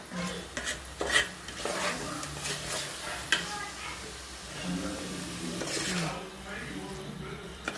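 Chili powder, garam masala and turmeric frying in oil in a home kitchen pan, with a soft sizzle under scraping and stirring clinks of a spatula against metal, while someone talks over it.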